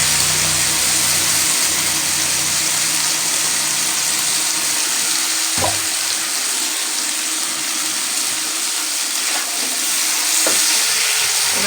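A paste of poppy seed, mustard, ginger, chili and tomato fries loudly in a pan, a dense continuous sizzle and bubbling with a few sharp utensil knocks, close and without speech.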